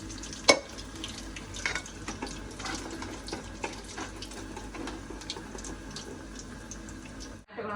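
Chicken fries in oil in a pan, a steady sizzle running throughout with a sharp clink near the start and no talk.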